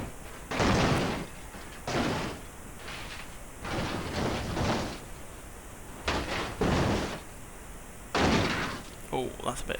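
Several heavy crash impacts of a car into a roll cage test in the BeamNG.drive game, loud bursts of crunching metal spaced a second or two apart, with quieter stretches between.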